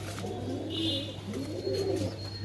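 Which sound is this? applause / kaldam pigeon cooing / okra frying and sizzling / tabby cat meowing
kaldam pigeon cooing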